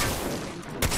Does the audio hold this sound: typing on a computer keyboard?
no